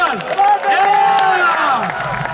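Arena crowd at a staged gladiator show in Pula's Roman amphitheatre cheering and shouting, a loud continuous roar of voices with whoops rising and falling over a few seconds.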